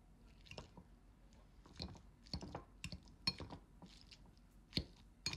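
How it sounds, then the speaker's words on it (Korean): Boiled eggs being mashed by hand, pressed down firmly with a utensil in a kitchen, making close, soft squishing and light tapping sounds in irregular bursts against a bowl, with no talking. "꾹꾹 눌러가며 계란을 으깨주세요"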